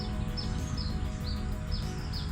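Birds chirp in short, repeated high tweets at a distance over a steady low outdoor rumble.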